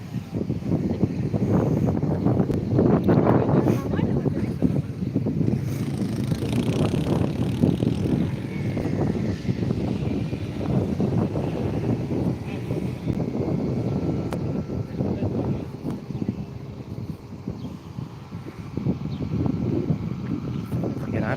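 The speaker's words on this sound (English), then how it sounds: "I absolutely love the sound of the LEAP 1Bs." A Boeing 737 MAX with CFM LEAP-1B engines rumbles at Skiathos, a steady broad roar heard from behind the engine with wind buffeting the microphone throughout.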